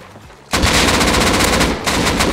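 Automatic rifle fire in the survival game Rust erupts after a quiet start, a loud, close, sustained burst with a brief break near the end before firing resumes.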